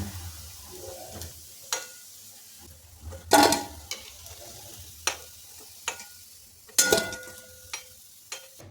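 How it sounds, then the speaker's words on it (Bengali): Veg Manchurian balls fry in oil with a soft background sizzle, punctuated by sharp intermittent clinks and scrapes of a utensil turning them, several louder knocks standing out. "একইভাবে সব মাঞ্চুরিয়ান বলগুলো ভেজে নেব"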